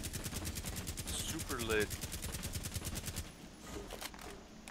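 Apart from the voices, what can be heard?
gunfire in the video game Rainbow Six Siege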